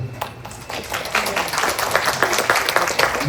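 Audience clapping at an education policy forum, scattered hand claps building into steady applause over a few seconds, moderately loud in a hall.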